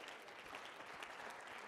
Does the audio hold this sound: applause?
yes